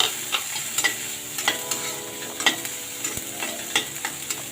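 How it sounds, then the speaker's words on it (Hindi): Tomatoes and peas are sautéed in a pan over browned onion, producing a constant sizzle broken by regular sharp clicks and scrapes of a spatula, close and fairly loud. "अब मैं इसमें टमाटर ऐड कर दूंगी और साथ में ये मटर भी ऐड कर दूंगी। अब मैं थोड़ा सा इनको भूनूंगी।"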